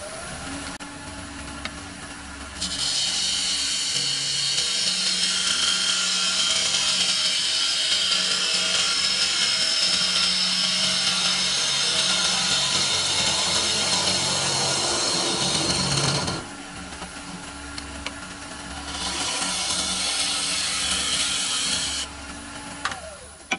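A woodturning lathe tool skims the surface of a wooden bowl, producing a loud, steady hissing cut for about thirteen seconds, a brief drop to the lathe's hum, then a second shorter cutting pass before it stops.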